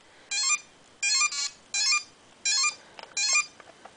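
Radio Shack Space Invaders handheld electronic game giving out shrill repeated beeping bursts, five similar high-pitched electronic blips in a regular rhythm with small chirps between, close and alone.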